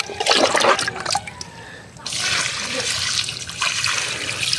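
Water is poured onto dry banana plants, with close, loud splashing and trickling that pause briefly midway and then continue steadily.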